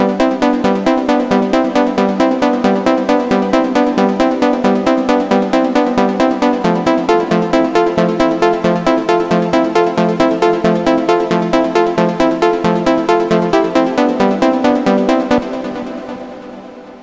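A synthesizer pluck in the style of a remix plays a fast, even, repeating melodic pattern of short bright notes, loud and close, before the last notes ring out and fade.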